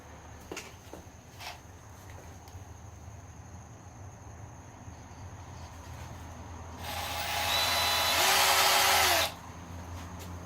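A power drill bores near the engine timing cover of a 1951 Chevy, one loud burst of roughly two seconds after quieter knocks and shop ambience, with a faint insect-like chirp throughout.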